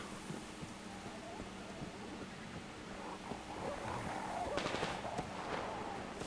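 Distant gunfire in the shooter game Metro Exodus, a few muffled bursts of shots building toward the end over a low ambient rumble, faint and far off.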